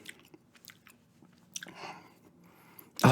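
Gum chewing close to the microphone, soft wet smacks and small crunchy bites scattered over a few quiet seconds, ending in a louder burst, with no talking.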